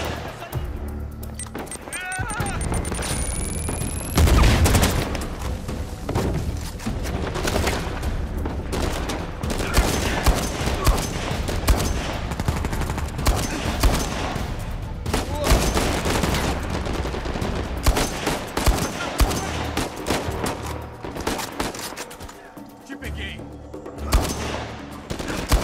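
Gunfire in the video game Uncharted 4: dense bursts of shots and automatic fire with sharp cracks and crashes over about 25 seconds, and voices talk over it at times.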